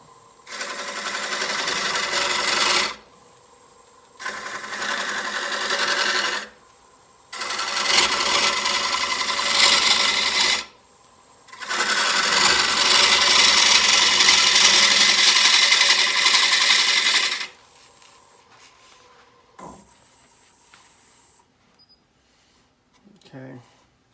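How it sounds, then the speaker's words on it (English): A glued-up wooden bowl blank spins on a lathe while a gouge takes very light cuts, giving four long, steady bursts of loud hissing, scraping tool noise separated by short pauses, then quieter handling sounds. "I'm taking very light cuts, primarily because this is a glued up piece."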